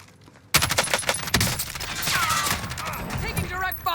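Rapid gunfire bursts in a Warzone firefight in Call of Duty, with a Kilo rifle in use, starting abruptly and continuing in dense, overlapping volleys and loud near shots with some distant echoing fire throughout.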